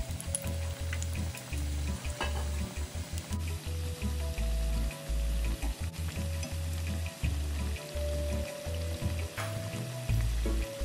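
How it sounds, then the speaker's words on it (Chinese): Sweet potato and nian gao strips, already fried once and slightly cooled, re-frying in oil on high heat until golden; a loud, continuous close sizzle with occasional stirring and crackling, no voices. "将稍微降温的薯条年糕复炸，大火一直油炸至金黄色后就完成了"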